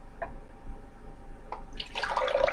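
Orange multifruit juice runs from a dispenser tap into a glass, with a few soft clicks at first and then a rising, splashy pour that grows louder near the end.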